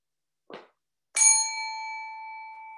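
A single bright bell ding rings out clearly in an early childhood classroom and lingers, fading slowly, after a brief soft thump.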